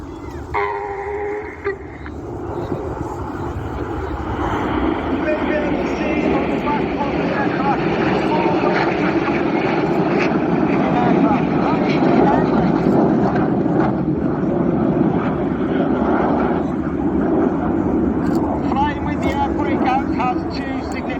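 Red Arrows display jets roaring past at the 2024 Cosford Air Show, a loud, sustained broad rush of engine noise that swells and holds for about twenty seconds, with a voice faintly present beneath it.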